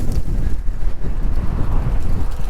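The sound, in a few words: strong headwind on microphone while cycling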